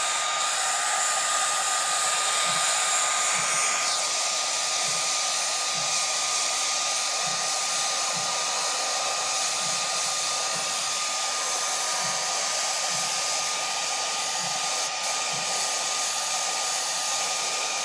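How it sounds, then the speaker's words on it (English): A hair dryer drying airbrushed paint on rayon runs continuously at steady volume, a loud airy whir with a faint pitch shift partway through, with no voices. "keep your blow dryer on your surface, but always move it within 2 to 3 seconds"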